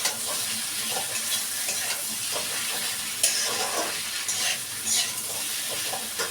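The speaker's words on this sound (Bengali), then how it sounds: "দেখতেই পাচ্ছি শুক্তোটা ভাজা ভাজা হয়ে গেছে" Vegetables for Bengali shukto frying in a pan with chillies and ginger, a continuous bright sizzle broken by repeated scraping strokes of stirring, close and fairly steady.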